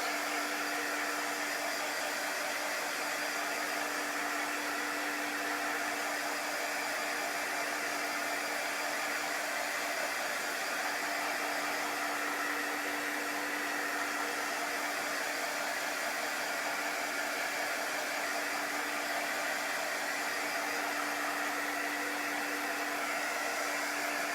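A hair dryer blows steadily and unbroken on a chalk-paste craft project, a constant airy roar with a faint steady hum beneath, alone and without talk.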